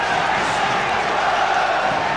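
A football crowd at a 2001/02 Charlton Athletic v Fulham match reacts to Charlton pressing forward, giving a steady, fairly loud roar of massed voices that holds evenly for the whole moment without clear peaks.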